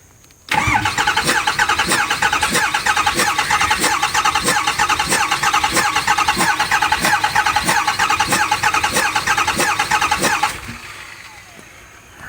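A Ford 6.4 Powerstroke diesel engine cranks on the starter for about ten seconds, a loud, fast, even rhythmic churning that stops abruptly and leaves quiet.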